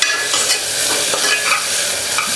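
Onion with freshly crushed ginger-garlic paste sautéing in a pan for spicy chicken soup, heard as a loud, close, continuous sizzle with steady stirring scrapes and crackles, no voices.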